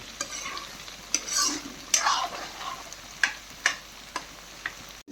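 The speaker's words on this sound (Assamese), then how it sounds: "ড্ৰাই ফ্ৰাই কুন্দুলি চব্জি ড্ৰাই ফ্ৰাই হ'ব" Ivy gourd (kundru) dry frying in a pan: a soft, steady sizzle under repeated sharp scrapes and taps of a stirring spoon, fairly close, with no talking.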